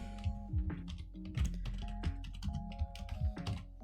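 Rapid keystrokes on a computer keyboard while typing a Google search, a busy run of close, crisp clicks and key thumps at an uneven pace with no talking.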